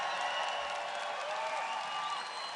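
A large crowd at an outdoor Arizona political rally for Donald Trump applauds and cheers in a steady, dense roar that holds evenly throughout, distant and continuous with no single voice standing out.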